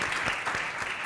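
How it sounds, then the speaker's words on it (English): A panel audience gives a dense, steady round of applause, many hands clapping together at an even level throughout, with no speech standing out above it. "Round of applause."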